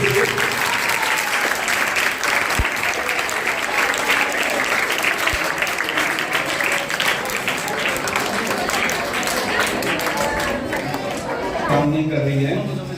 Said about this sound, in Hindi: बेग सर आइए, जोरदार तालियां बजाइए।